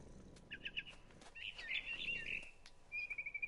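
A barn swallow chirps in What Remains of Edith Finch, short bright twittering bursts near the start, a longer warbling run in the middle, then a thin trilled call at the end, fairly close over a soft background.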